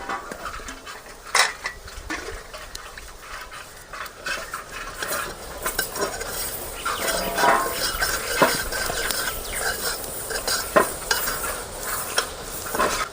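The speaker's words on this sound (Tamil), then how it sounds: "தண்ணி ஊற்றி கட்டி இல்லாத கரைச்சிக்கலாம்." A utensil stirs ground urad dal batter with water for Mysore pak, scraping and clinking against the vessel in continuous, uneven strokes, close and moderately loud, with no talking.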